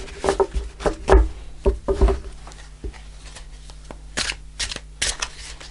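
A Marchetti tarot deck being shuffled by hand, with close, crisp bursts of riffling and soft card slaps in uneven clusters, plus light shuffling handling between them.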